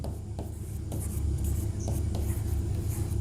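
Chalk scratching steadily across a board during a chemistry lesson, a continuous rubbing stroke with brief taps between words, close and fairly loud.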